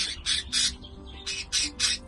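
Pet birds give six loud, harsh squawks in two bursts of three, close to the microphone, with a faint background hum between calls.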